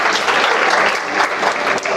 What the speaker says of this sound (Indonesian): Haleluya, tepuk tangan yang kenceng.